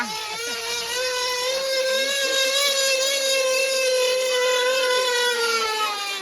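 A vehicle engine with an exhaust silencer drones steadily at a village handcart race, with a buzzing, whining exhaust tone, loud and continuous throughout with slight pitch wavering.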